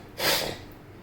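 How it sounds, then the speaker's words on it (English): One short, close nasal sniff, quick and breathy, then quiet. "excuse my sniffling, coughing, all those types of things"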